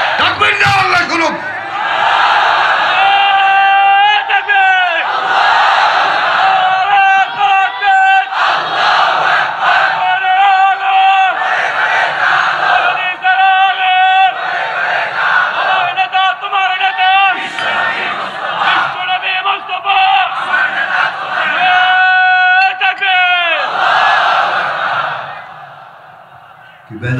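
A large crowd at a Bangla Islamic sermon gathering shouts takbir together in loud, repeated bursts, the massed voices rising and falling in waves close by and filling the space.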